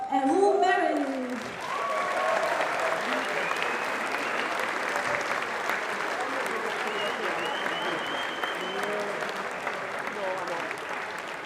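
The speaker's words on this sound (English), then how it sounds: "give a warm welcome and a big applause" An audience at the RoboCup 2024 opening in Eindhoven breaks into full, sustained applause for the co-chairs, with a voice briefly heard at the start before the clapping settles into a steady wash.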